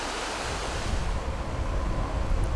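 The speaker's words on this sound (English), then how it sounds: "the river is not rushing this time of year" The river near Hell's Gate in British Columbia, Canada, flows in a steady, broad wash of rushing water, loud and constant with no voices.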